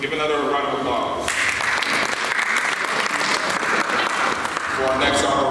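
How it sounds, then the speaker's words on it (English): A crowd at a Father of the Year gala in Fort Pierce, Florida applauds loudly, with sustained dense clapping. A voice is heard speaking in the first second and the clapping continues under the room's noise. "Give another round of applause."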